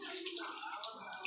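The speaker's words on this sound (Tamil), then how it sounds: "நாங்கள் கை வாஷ் பண்ணிட்டு வந்துடுறோம்" Water runs steadily from a tap while hands are washed, a faint, soft splashing hiss with small gurgles, quiet and close with no talking.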